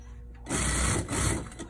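Sewing machine stitching the outside seams of a pair of pants, a quiet start followed by a steady rapid mechanical hum and chatter running to the end, with no voices.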